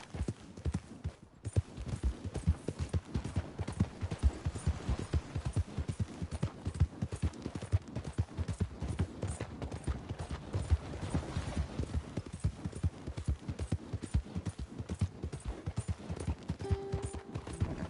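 Horse hooves gallop in steady, rapid clip-clop rhythm through an open-world Western game, Red Dead Redemption 2, loud and close for the whole stretch with a brief dip near the start and a faint whinny-like tone late on.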